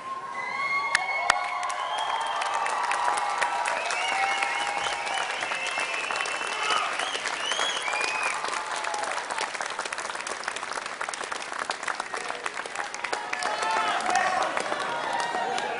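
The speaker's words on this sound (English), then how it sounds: "show your appreciation by doffing your caps and giving them a round of applause" Graduates at a university graduation ceremony applaud their families, a dense, steady wave of clapping and cheering from a large crowd that lasts throughout, with some shouts rising above it.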